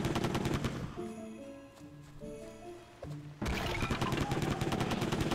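Rapid, repeated gunshots from a shooter game on the Nintendo Switch, loud bursts at the start, a short lull with tonal game sounds, then sustained fire resuming.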